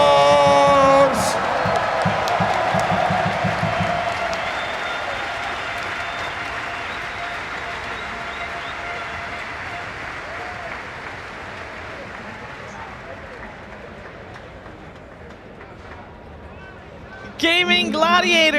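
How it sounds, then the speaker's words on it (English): A large arena crowd at the Lima Major final day applauds and cheers for the champions on stage. Loud clapping and whoops start strong, slowly thin out, then surge again near the end. "Awesome to hear the cheers for each and every one of the players on stage."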